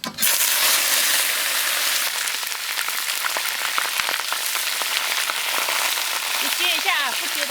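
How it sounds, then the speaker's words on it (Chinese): Fish bones fried in hot oil in a wok for a home-style pickled-cabbage black fish dish, giving a loud, steady crackling sizzle that fills the whole clip, with a voice talking faintly underneath. "骨头下锅先炸一下。"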